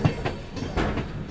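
A WDG4 diesel locomotive hauls its train across the Pamban bridge near Rameswaram, giving a steady rumble with rhythmic clickety-clack wheel beats on the rails, fairly close and without talk.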